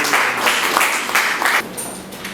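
A crowd applauds at a youth entrepreneurs' environmental ceremony, a loud, steady wash of clapping up close that fades out after about a second and a half, leaving quiet room tone.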